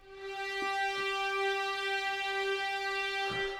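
A quiet, steady string-section tone held flat and unwavering without vibrato, with a few faint bow-like bumps, sustained for a few seconds without any pitch wobble.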